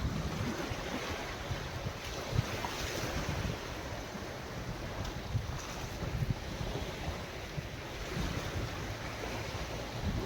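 Arabian Sea waves wash steadily onto the shore in a dense, continuous roar of surf, with wind buffeting the microphone throughout and no clear breaks between waves.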